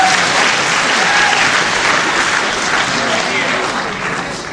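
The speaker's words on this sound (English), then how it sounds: "So the very fair crowd here at the Cliffs Pavilion, Westcliff-on-Sea, really giving Hasouni applause when he does something very well." Sustained applause from a crowd at a 1977 wrestling match in the Cliffs Pavilion, Westcliff-on-Sea, a dense clapping wash that fades slightly toward the end, with a commentator's voice faintly underneath.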